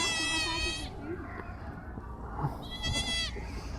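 A goat and her newborn kid bleat nearby, two quavering cries, one at the start and one near the end, with people talking quietly in between.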